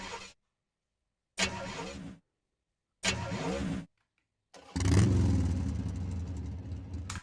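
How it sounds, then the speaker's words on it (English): A bus engine cranks and fails to start three times in short separated bursts, then catches and runs roughly, set within a song. "I have several attempts to start the engine, and the engine just does not start."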